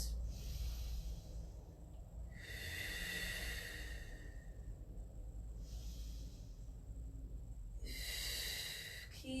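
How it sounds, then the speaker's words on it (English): Slow, deep breaths during a Pilates stretch, with long airy inhales and exhales in a steady rhythm of about four breaths, close and fairly soft over a low background rumble. "Just nice deep breaths."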